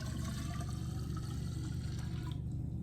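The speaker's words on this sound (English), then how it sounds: "take this water and pour it into a very large graduated cylinder" Water pours from a flask into a large graduated cylinder in a steady, rushing splash that fills the space evenly before tapering off near the end, close and continuous without talk.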